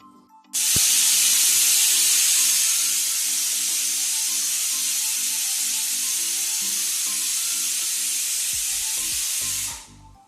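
A pressure cooker holding a steamer plate and a little water, cooking suralichya vadya, lets out a long, loud, steady steam whistle for about nine seconds, then cuts off abruptly, with a faint low hum underneath.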